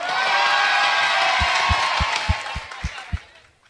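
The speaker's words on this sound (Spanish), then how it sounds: "¡Aplausos!" Studio audience applause and cheering at a Dominican TV talk show, broad and sustained, fading out over the last second while a few louder thumps punctuate the tail.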